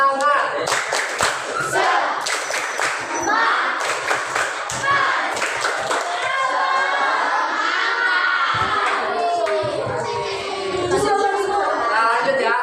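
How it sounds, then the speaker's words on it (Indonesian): A class of students performs rhythmic spirit clapping, sharp claps in patterned bursts mixed with children shouting and chanting together, loud and close. "Tepuk semangat."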